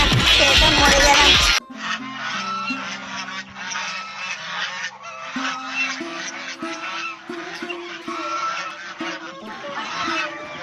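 Cartoon ducks quack and honk repeatedly in a folk-tale animation about a fox stealing ducks, the calls coming in quick bursts over a background music score after a brief loud opening burst.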